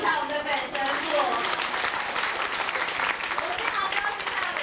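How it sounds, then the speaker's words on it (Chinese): A congregation applauds to welcome the parish priest at the 1998 dedication celebration of the new Sacred Heart of Mary Catholic church in Taoyuan, a dense steady roar of clapping with a voice speaking over it. "让我们来掌声欢迎一下我们的本神父。"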